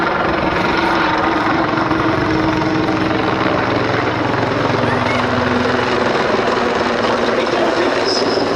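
A Mi-24D Hind helicopter flies at the Duxford Battle of Britain Air Show, producing a loud, continuous rotor and engine drone that holds steady throughout.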